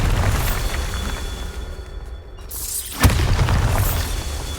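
A Bombarda blasting spell goes off in Hogwarts Legacy: one sharp, loud blast bursts in after a brief lull, over a steady wash of game ambience.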